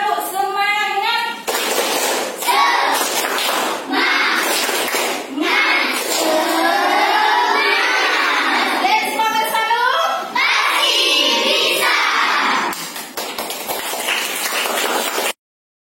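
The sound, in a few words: children doing tepuk semangat rhythmic clapping chant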